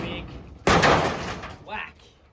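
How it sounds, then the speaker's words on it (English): A big chunk of metal slams into nailed-on roof sheets being knocked off an off-grid shower build: one loud sharp metallic bang with a short ringing decay, close by, as people talk around it. "we thought the best way to get them out was finding a big chunk of metal and just giving it a big"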